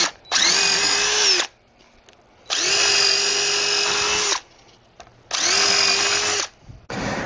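Power drill boring screw holes through a wooden nailer on a porch railing, three loud sustained whining runs of a second or two each, separated by short pauses, close up with no talk.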